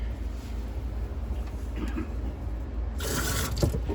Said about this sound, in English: So I see it's shooting out water.